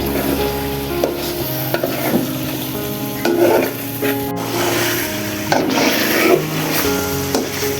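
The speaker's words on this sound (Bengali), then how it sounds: "এখন মাংসগুলো ভালো করে নাড়াচাড়া করে কষিয়ে নেব 10 মিনিট।" Marinated chicken in spices is stirred and fried for biryani, heard as a close, loud sizzle with repeated rhythmic scraping strokes of a spatula against the pan, with no talking.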